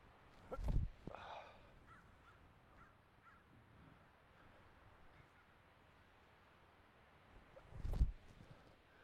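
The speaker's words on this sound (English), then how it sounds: "The crows are about to show up?" Crows cawing in short outbursts, one near the start and another near the end, with quiet outdoor background between them.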